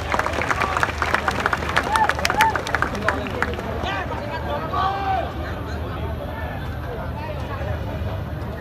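A concert crowd applauds and cheers for a band at a metal show in Surabaya, a dense wash of clapping and shouting with a voice talking over it.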